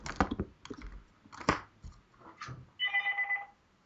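A short burst of telephone ringing sounds inside the video game Assassin's Creed 3, a pulsing electronic trill that follows a few scattered clicks and soft thumps and then cuts off.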